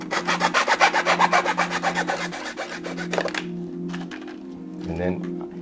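A hacksaw blade cuts a pipe with quick, rhythmic back-and-forth rasping strokes for about three seconds, then stops, leaving quieter scattered handling noises.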